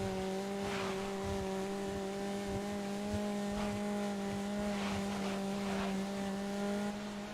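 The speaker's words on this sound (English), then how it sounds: "The only car you hear is yourself." A racing car engine in the video game Grid drones at a steady high pitch, constant and fairly loud, with faint tire and track noise beneath.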